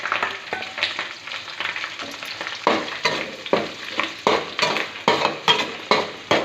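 Curry leaves and onions frying in hot oil in a pan for an eggplant fry, a steady sizzle broken by repeated stirring scrapes, close and moderately loud.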